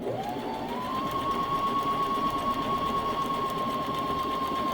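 A sewing machine stitches a wool diaper cover in one steady, continuous run, its motor whine close and even throughout with no talking.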